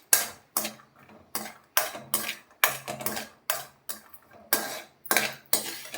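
Almonds stirred and roasted slowly in ghee in a pan over a low flame, giving repeated scraping, clattering strokes in a steady rhythm, close and fairly loud with short pauses between them.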